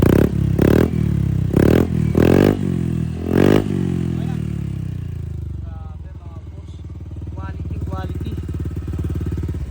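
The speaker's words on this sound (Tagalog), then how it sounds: "Nakabitan natin yung Kinochi 5. Siyempre, bigyan natin ng kapirasong sound check." A Honda Click scooter with a newly fitted Kinochi exhaust revs in several sharp bursts, then settles into a throbbing idle, loud and close, with a brief voice near the start.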